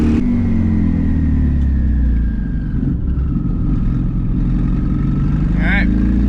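Twin-turbo Subaru STI engine at a steady, loud drone, rumbling continuously through the whole stretch with a faint whine over it and a brief chirp near the end.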